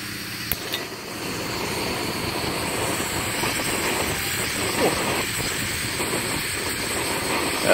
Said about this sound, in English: Just got this stove as well. It's supposed to be windproof. It does use a lot of gas though.